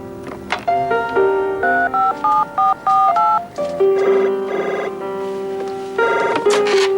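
A telephone is dialed in a played comedy sketch: a clear sequence of tonal keypad beeps, some held and some short, loud and alone with no talk over them.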